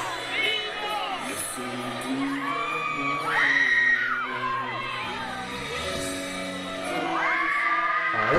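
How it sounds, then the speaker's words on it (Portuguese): A crowd of young fans shouts, screams and cheers at a festival dance performance, high excited voices rising and falling in loud waves that swell again near the end. "Tão gritando pra mim, caramba!"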